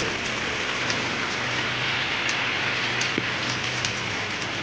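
Heavy rain falls in a village backyard as an even, moderately loud wash of hiss, with scattered sharper drips and patters over the steady downpour.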